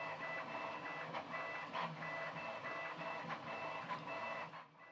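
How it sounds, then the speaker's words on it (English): A Prusa Core One+ 3D printer prints with its fans off, making a steady, quiet whirring of tonal motor whines with rhythmic chirps and pulses, close and alone, before trailing off at the end. "I will let you listen to the sound of the printer printing for a moment."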